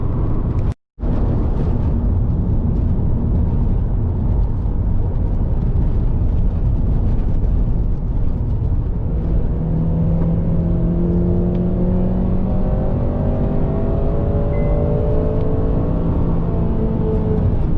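Interior drone of a Honda Civic Type R FN2 engine on a spirited drive: a continuous loud hum with a momentary dropout near the start, and rising engine tones building in the later part.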